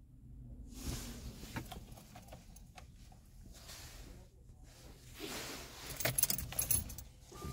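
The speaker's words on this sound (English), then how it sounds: "Turn the ignition on." Keys jangle and an ignition key turns in a Jaguar X-Type car, with close metallic rattles and clicks over a low steady hum, briefly louder near the end.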